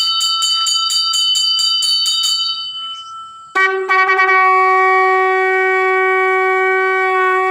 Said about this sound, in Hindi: चलिए हनुमान जी की पूजा हो रही है, एक बार शंखनाद जी।